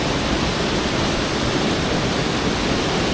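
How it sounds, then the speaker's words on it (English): A waterfall near Dolwyddelan Castle in Wales rushes in full flow, a loud, constant broadband roar of falling water that holds steady from start to finish with no voices. "the waterfall is a lot more active than it was last time I came here"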